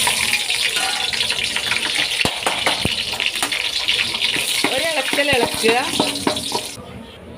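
Water poured into a biryani pot of ghee with cinnamon, cloves, cardamom and star anise, a steady close gush and sizzle running throughout, with brief talk over it near the end.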